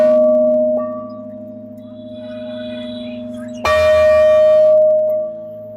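A bell cast from bomb canisters at a war museum in Vietnam rings with a sustained metallic tone, struck again partway through for a louder renewed ring that slowly decays.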